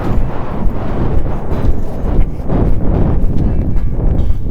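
A horse loping, a steady rumbling rhythm of hoofbeats heavily mixed with loud wind buffeting the microphone.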